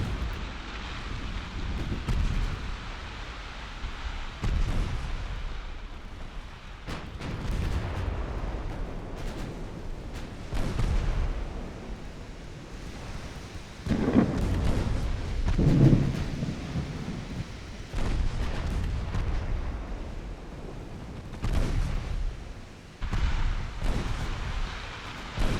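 Naval guns fire at battleships during a sea battle in a typhoon, heavy booming shots with long rumbling tails rolling over a constant roar of wind and rain, several blasts spread irregularly throughout, loud and with no talking.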